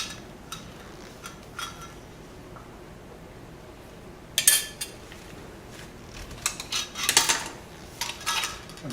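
Metal lids set onto glass jars of pickled hot peppers, giving scattered light clinks and taps with a few sharper metallic clatters toward the end, close by in an otherwise quiet room.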